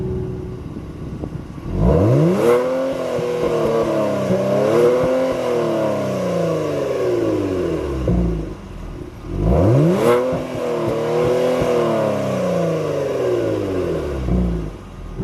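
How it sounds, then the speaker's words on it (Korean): A 2020 Kia Stinger GT Limited's twin exhausts rev hard twice, each burst rising in pitch then falling back to a rumbling idle, close by with no talking. "양쪽에 트윈 머플러로 구성이 되어 있는데 소리 한번 들어보실게요"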